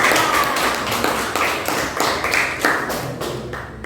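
Students in a classroom clap for a fellow student group, a small cluster of close, uneven handclaps in a loose rhythm with soft thuds, briefly sustained.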